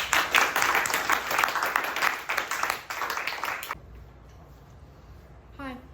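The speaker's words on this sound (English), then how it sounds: "Give her a round of applause." A small audience at a classroom demo session claps for several seconds, then the applause breaks off abruptly into near silence, followed by a brief voice.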